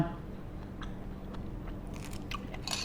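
A crispy fried chive dumpling (kuichai) is bitten and chewed close up. Soft crunches and mouth sounds are set against a low background hum.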